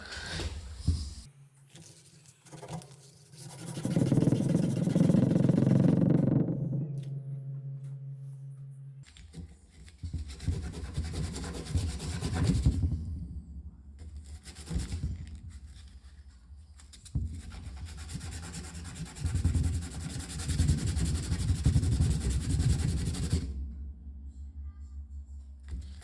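Rough, uneven rasping of sandpaper scraping against a small, hard canna seed, in repeated bursts with short pauses, close by.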